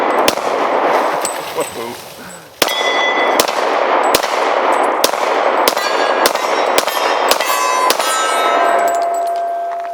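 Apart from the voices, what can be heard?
handgun shots hitting a metal target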